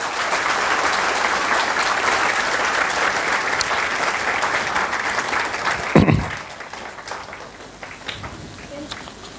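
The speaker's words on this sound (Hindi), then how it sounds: "तो एक बार साथ जोरदार तालियां सभी पेरेंट्स के लिए बजा दीजिए।" An audience in a school session for parents applauds loudly and steadily for several seconds, then the clapping thins out and fades to scattered claps.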